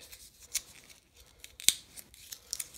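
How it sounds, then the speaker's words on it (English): Scissors snip through plastic packaging at home, a few crisp close cuts spaced irregularly, one sharper loud snip in the middle, over a quiet background. "got me some scissors. Last time to open them up."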